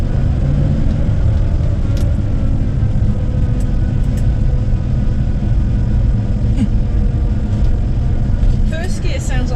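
A Rover P4 pulls away in first gear, its loud low engine rumble and whining drivetrain droning steadily from inside the cabin, with chatter and faint high squeaks over the top.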